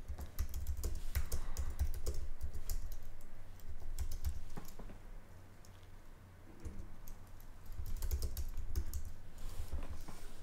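Steady typing on a computer keyboard, close and moderately loud, with irregular bursts of keystrokes and short pauses throughout, no talking.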